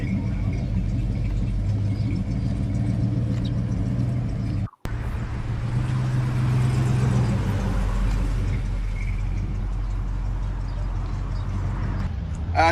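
A 383 Plymouth Barracuda muscle car, an original California car, idles with a low, steady rumble throughout, close by at a car show, with people talking over it.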